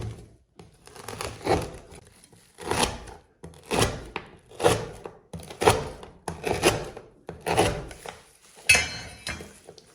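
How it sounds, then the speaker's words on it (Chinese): A knife cuts a warm slab of crispy puffed rice dessert into small pieces, producing about ten separate crunchy, crackling chops in an even rhythm, close and clear with no talk. "迅速的给它切成小块。"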